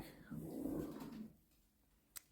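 Dogs growl low and rumbling for about a second, followed by quieter indoor background and a brief sharp noise at the end.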